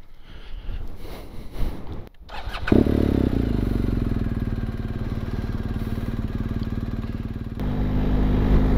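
A motorbike starts and pulls away, engine catching after some shuffling and clunks, then a loud steady throbbing drone that rises again near the end, heard close with no talk.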